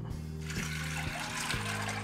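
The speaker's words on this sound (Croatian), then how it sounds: "I da zalijemo vodom." Water is poured from above into a cooking pot of dry beans, making a steady, hissing splash that runs throughout under a low electrical hum.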